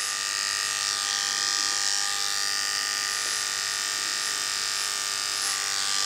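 Electric hair clippers cutting a low fade, a continuous close-up buzzing hum with slight variations in pitch as the blade moves, with no talking.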